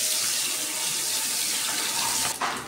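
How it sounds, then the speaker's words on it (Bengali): An egg dropped into hot oil in a wok, producing a loud, steady hiss of frying with a brief burst of sharper spattering just before the end. "আমার তেল গরম হয়ে গেছে, আমি ডিমটা ছেড়ে দিচ্ছি।"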